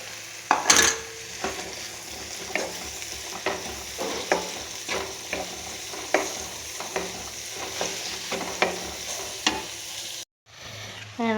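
Ginger, garlic, small onions and green chillies sautéing in oil in a pan, a steady sizzle punctuated by regular stirring clinks, ending with a brief silence and a short return of sound.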